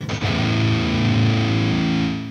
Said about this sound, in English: So how this sounds on guitar.